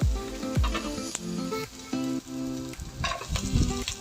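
Carrots and cabbage stir-fry in a pan, a close steady sizzle broken by the clatter and scrape of stirring and a few sharp knocks.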